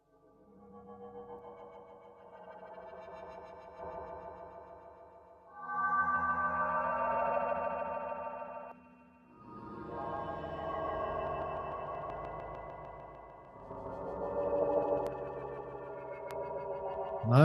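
Distorted granular synth patch built in Serum 2 for forest psytrance, sustained buzzy harmonic drones in several swelling phrases with short gaps, moderately loud and alone without talk.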